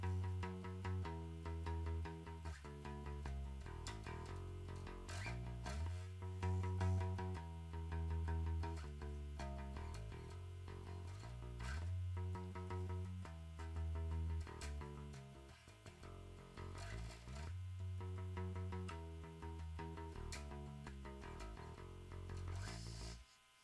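Electric bass playing a riff with slides up the neck and repeated triple hits, steady and close throughout with no talking.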